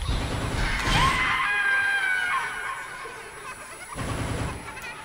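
A ghost's eerie screeching wail rises and bends across the middle of a Fatal Frame horror game scene, over low ambient rumble, with a brief harsh burst near the end; no talk.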